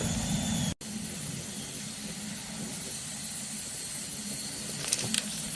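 An Instant Pot cooking white rice hisses steadily, a broad continuous rush of steam with a low rumbling undertone, briefly cutting out once early on and then holding steady with a few faint clicks near the end.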